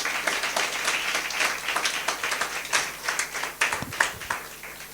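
A church congregation applauds and cheers during a sermon, a dense, steady wash of many hands clapping with a few sharper claps standing out, sustained for several seconds.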